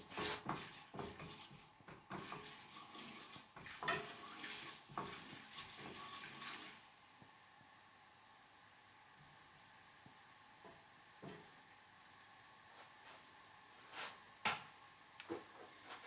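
Chana dal and urad dal sizzle and fry in hot oil in a pan for an Onam side dish, with stirring scrapes and clinks that are busiest early on, then a quieter stretch and a few later knocks.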